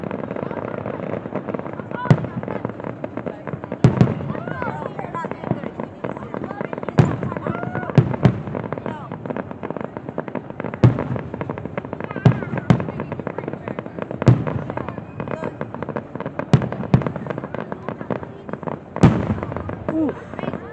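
Fireworks at a Toledo, Ohio show burst again and again over about twenty seconds, with loud sharp booms and crackling between them as spectators react and talk in the crowd.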